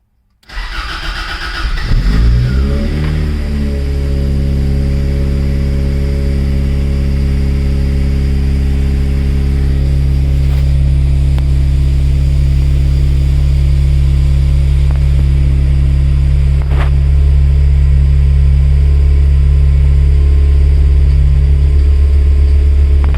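A Toyota AE86 with a 20-valve engine cranks and fires up after sitting for a week, then settles into a loud, steady close-up idle with a strong low rumble that holds for the rest of the clip.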